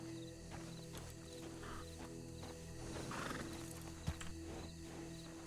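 Horse sounds from the RedM video game, with a steady bed of game ambience and a short sharp thump near the end. No one talks.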